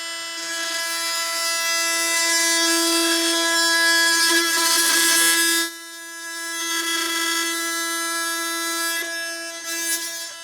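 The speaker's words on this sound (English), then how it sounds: "Most oscillating blades wouldn't even be able to make this deep of a plunge cut" An oscillating multi-tool with a Nitrus Carbide extreme metal and materials blade making a deep plunge cut, a loud high-pitched steady buzzing whine that dips briefly midway, then resumes, heard alone.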